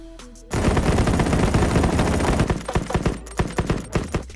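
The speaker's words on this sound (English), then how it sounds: "It takes a full 4 seconds to expend 36 bullets from the VK-15 and only 2 seconds from the MK" VK-15 and MK16 assault rifles in the shooter game Battle Prime fire full auto, a loud, dense rattle of rapid shots that breaks into a few separate bursts near the end.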